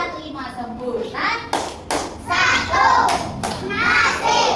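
Children in a classroom chant and clap through the Tepuk 4 Sehat 5 Sempurna clapping game, sharp rhythmic claps in short groups mixed with their loud sing-song voices.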